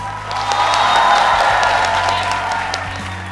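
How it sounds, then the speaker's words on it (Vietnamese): A TV game show audience applauds warmly, a dense burst of clapping that swells then holds steady over a low background hum. "Một tràng vỗ tay nồng nhiệt cho Thanh Liêm."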